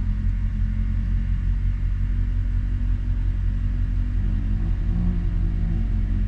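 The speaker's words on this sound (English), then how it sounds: "Never actually heard my compressor run before." Air suspension compressor on an Audi S7 4.0T runs with a steady low droning hum and rumble that holds evenly for the whole stretch, with no voices over it.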